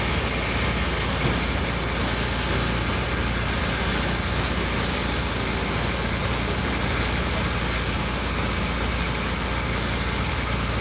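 Southern Railway steam locomotives 630 and 4501 roll in at the Tennessee Valley Railroad Museum, a loud, continuous rumble of heavy rail movement with metallic wheel squeal and hiss throughout, no voices.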